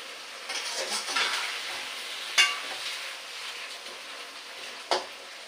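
Onions fry in a large wok with a continuous sizzle, while a spatula stirs and scrapes them, landing two sharp metallic knocks against the pan; no one speaks.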